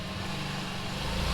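A golf cart or Honda Ruckus scooter starting up after battery repair, with a steady, close engine hum that runs evenly through the short stretch with no talking.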